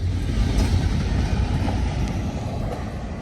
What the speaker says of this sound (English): One locomotive pulling a intermodal train alone, but this time at night.